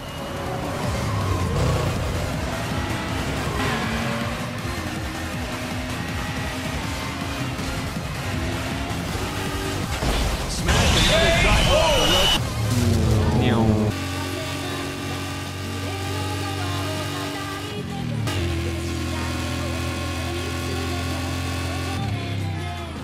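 A Vegas Mobile car races through Burnout Paradise, its engine droning and revving loudly and continuously, with pitch rising and falling through shifts and a brief louder roaring surge partway through.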